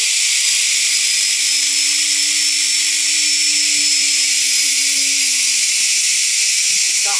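A front-load washing machine's six-wire universal motor, under repair, spins at full speed with a loud, steady high-pitched whine and hiss that holds unbroken throughout.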